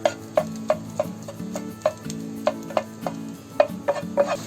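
A spoon scrapes and clanks against a pan, stirring fried rice mixed with chopped omelette. Sharp metallic taps come roughly twice a second over a low steady hum, close and clear, with no voices.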